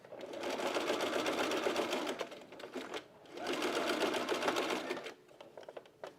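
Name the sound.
sewing machine zigzag stitching stretch fabric of a bralette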